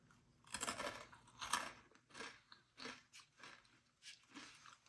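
Crunchy rolled tortilla chips crack between the teeth in a series of close, fairly quiet bites, followed by several rhythmic chewing crunches with no talking.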